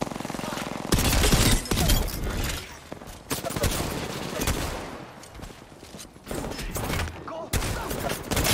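Rapid bursts of gunfire from an Apex Legends match crackle loudly in repeated volleys, with short gaps between clusters of shots.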